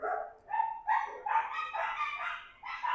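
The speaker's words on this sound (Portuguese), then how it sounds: "Estão escutando os cachorros daqui de casa latir, né?" Dogs at a house bark repeatedly in a rapid series of sharp, mid-pitched barks and yips, moderately distant and alone without talk.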